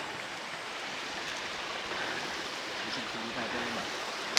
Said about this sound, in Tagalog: Narating na namin yung ilog.